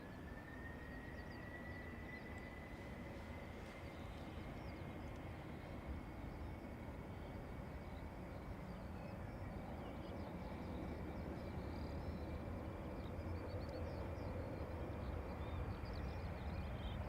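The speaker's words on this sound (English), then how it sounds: "we're still clear for takeoff 28 right, Delta 155" A Delta airliner rolls for takeoff on runway 28 right at Dublin Airport, a steady loud engine roar that builds slowly over the run and holds with no pauses.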